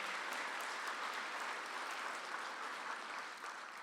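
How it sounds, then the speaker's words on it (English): An audience at a rural regeneration conference opening ceremony applauds volunteers, a dense, steady wash of many hands clapping at close range that fades slightly toward the end. "Told you it was going to be a lot of clapping."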